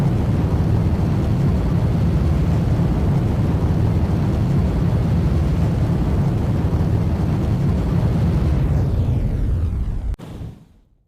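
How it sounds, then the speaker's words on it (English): A rocket stage's center engine roars through a landing burn, a loud, dense, continuous rumble that holds steady for about ten seconds before cutting off abruptly and falling to near silence. "the center engine will ignition to slow down and target landing area"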